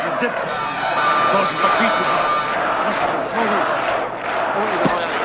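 A large boxing-arena crowd in the 1985 film Rocky IV roars in a steady, dense wash throughout, with surging swells and shouting voices mixed into the noise.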